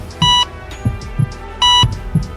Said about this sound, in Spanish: Un pitido sonó.